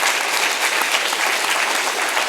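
A large indoor audience claps for a poet at the Kavyanjali 2025 recital, IIT Kharagpur; the applause is loud, close and continuous, a steady roar of many hands with no voices above it.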